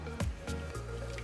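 Water pours into a slow cooker while a Chinese New Year cake (nian gao) is made, arriving as three short splashy gulps and drips over a low steady hum, close by.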